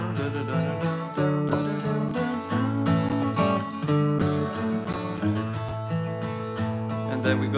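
A bluegrass rhythm guitar plays the B part of Cherokee Shuffle, steady alternating bass notes and chord strums in a brisk, even rhythm, close and clear with no voice over it.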